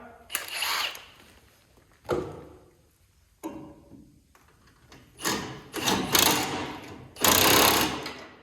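A power tool drives grade 8 bolts while fastening a winch, in several separate bursts of whirring and rattling with short quiet gaps between them, close and loud.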